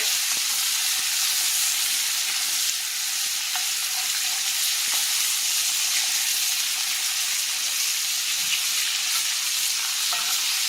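Breaded hamburger steaks fry in a 10-inch iron skillet, giving a steady, loud sizzle with crackling oil pops that runs unbroken the whole time.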